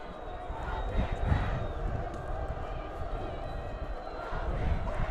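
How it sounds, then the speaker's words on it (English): Stadium crowd at a Nebraska state high school football quarterfinal between Creighton Prep and Millard South, a dense roar of voices swelling steadily louder, with a commentator talking over it. "Junior J crowd getting loud"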